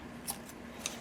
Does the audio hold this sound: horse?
no